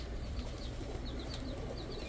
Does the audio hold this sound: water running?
no